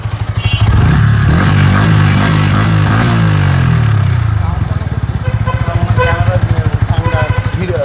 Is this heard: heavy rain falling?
no